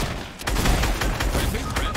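Rifle gunfire in Fortnite, several sharp shots and impacts in quick succession, loud and close, set against game ambience.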